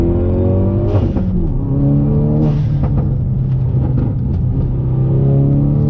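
A Hyundai Veloster N accelerates hard on throttle, its engine note loud and close, climbing through revs with brief dips at gear changes before settling into a steady drone.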